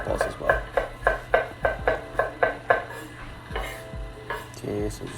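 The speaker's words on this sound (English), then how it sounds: "Start chopping." A knife chops and minces onions on a cutting board for spiced pork meatballs, about ten sharp, evenly spaced knocks, close and loud, then a brief scrape and softer, quicker chopping.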